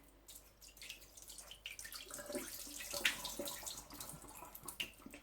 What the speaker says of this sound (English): Drain the water off and repeat.